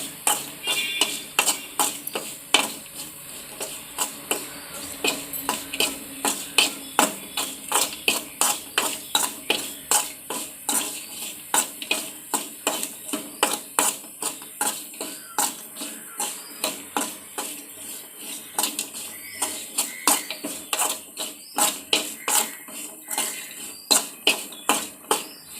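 Cashews sautéing with salt and chili powder in a pan over low heat, giving a steady run of rapid scraping stirs and light clattering ticks close by, with no talking.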